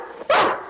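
A single dog bark from the 1994 film Nobody's Fool, sharp and close with a slightly old-fashioned, thin quality, preceded by a brief low whimper.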